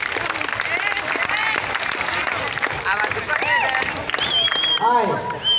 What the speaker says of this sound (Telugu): ఇప్పుడు నేను 3 అన్నప్పుడు క్లాప్స్ కొట్టాలి.